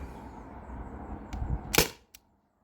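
A T4E TR50 Gen 1 air pistol with an 11 joule valve fires a single shot over a chronograph, one sharp, close crack after steady background hum, followed by a faint click and then near silence.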